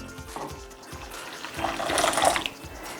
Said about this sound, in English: Now to this, I'm going to add some hot water